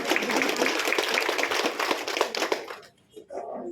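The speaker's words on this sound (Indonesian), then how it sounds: "kita tepuk tangan Pak Willy dulu." Audience applause at a training evaluation session, dense steady clapping for about two and a half seconds before it stops abruptly, followed by a brief pause and scattered lighter sounds.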